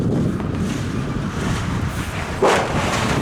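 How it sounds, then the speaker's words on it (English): Wind blowing outdoors at a job site where aluminum trim is being bent, a steady loud rushing roar buffeting the microphone throughout, with a stronger gust near the end. "if the wind wants to blow, I'm going to let the wind push me down"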